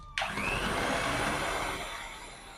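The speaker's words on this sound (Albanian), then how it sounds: "Masën përsëri e përzi mirë me mikser." An electric hand mixer runs continuously through thick cake batter for a decorated celebration cake, a steady close whirring drone that starts abruptly and holds at an even level with no talking.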